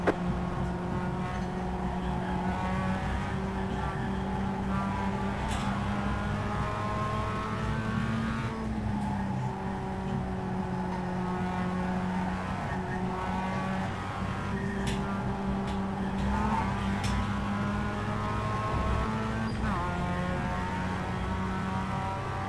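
Mazda MX-5 race cars in the iRacing sim at Lime Rock drone continuously, the engine note climbing and dropping in repeated rev sweeps through gear changes, loud and close with no talk.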